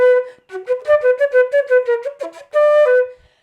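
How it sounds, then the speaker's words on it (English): A flute plays a quick run of double-tongued notes with a deliberately weak g stroke, giving uneven, smeared articulation across a steady pitch, with a short gap and then a few more clear notes; no one speaks. "if my g was not as good as my d, it would sound something like this."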